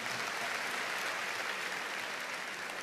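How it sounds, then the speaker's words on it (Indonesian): A church congregation claps in praise, a steady, dense wash of applause from many hands that is fairly faint and distant and continues evenly throughout, with no clear talking. "Beri tepuk tangan yang meriah buat Tuhan tuh"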